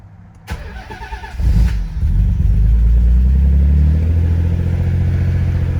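A Nissan 300ZX with a VG30TT twin-turbo engine cranks briefly with a starter whine, then fires up and settles into a loud, steady idle close by.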